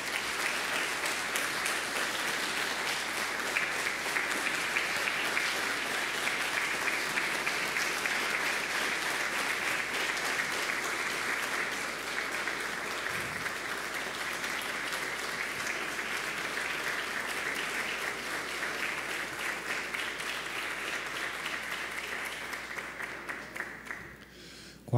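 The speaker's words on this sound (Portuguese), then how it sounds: "Senhoras e senhores, uma salva de palmas a todos os homenageados deste dia." Sustained audience applause fills a solemn session of a municipal council honoring religious leaders, a dense, steady clatter of many hands that holds evenly for about twenty-four seconds before tapering off at the very end.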